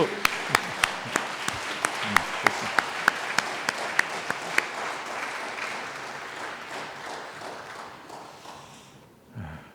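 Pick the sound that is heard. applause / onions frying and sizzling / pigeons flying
applause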